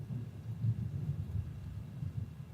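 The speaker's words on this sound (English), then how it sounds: "You guys hear that thunder?" A low, steady rumble of thunder rolls on for the whole stretch, muffled and fairly faint, as if heard from indoors with nothing else over it.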